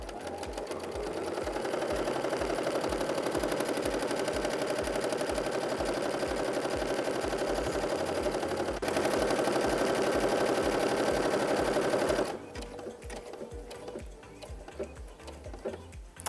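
A sewing machine started with its start/stop button stitches steadily with a rapid, even mechanical whir and ticking needle rhythm, close and loud, then stops and gives way to a few quieter clicks.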